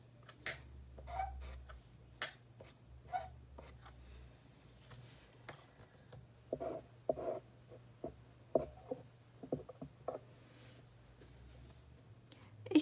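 Faint, sparse scratching and tapping of a pen sketching a whale on black paper, soft strokes and light clicks scattered over a quiet, low background hum.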